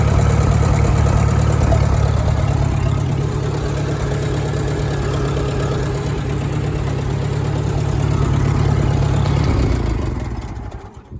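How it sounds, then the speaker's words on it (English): A 1949 Farmall H vintage tractor engine runs steadily at a low, throbbing idle, loud and close throughout, before cutting off abruptly in the final second. "My tractor turning on and off."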